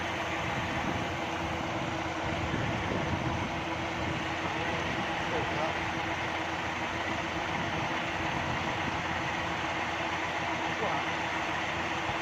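A Kubota L5018 tractor engine drives a water pump through a 22-inch pulley to irrigate a rice field, a steady low droning rumble running without a break, with people talking over it nearby.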